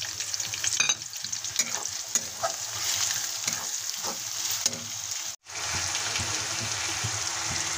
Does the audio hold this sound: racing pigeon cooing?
no